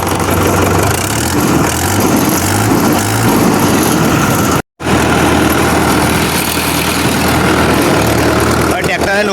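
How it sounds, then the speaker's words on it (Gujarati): A tractor engine with a torn silencer runs with a loud, rough, low mechanical drone that holds steady, briefly cuts out midway, then resumes. "હવે આપણે ટ્રેક્ટર ચાલુ કરીશું, જોઈ રહ્યા છો સાયલેન્સર ફાટી ગયું છે।"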